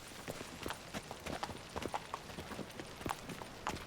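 Hooves of Roach, the horse in The Witcher 3, clip-clopping in a steady walking rhythm over a continuous ambient background, moderately close.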